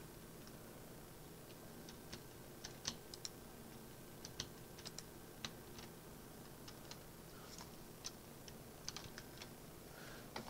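A pet lying across a computer keyboard during an online card game presses keys, giving scattered, irregular soft clicks and taps, some in quick clusters, over a steady low room hum with no talking.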